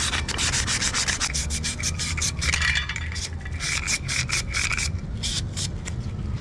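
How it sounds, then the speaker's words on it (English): Wet sanding a Honda Street part with 220 grit sandpaper: a continuous close scratchy rubbing made of quick back-and-forth strokes in a steady rhythm, with no talking. "I'm gonna wet sand with some 220 grit,"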